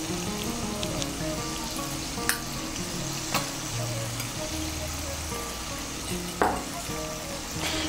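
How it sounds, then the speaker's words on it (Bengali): Spice paste with ground tomato, turmeric and salt frying in a pan for a paneer curry, a continuous close sizzle with spatula scrapes and a few sharp taps as it is stirred. "সমস্ত মশলা মিশিয়ে নিয়ে মশলাটাকে ভালো করে কষিয়ে নেব"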